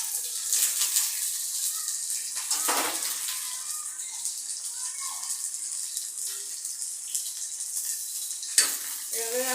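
Green chillies, garlic and onion sizzle steadily in hot oil in a pan, a continuous bright crackle with a few sharper spatters and utensil scrapes, close and alone.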